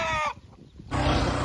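A rooster shut inside a bag at a village temple fair clucks and squawks in short bursts, close and fairly loud, with a brief quieter pause in the middle before the noise resumes.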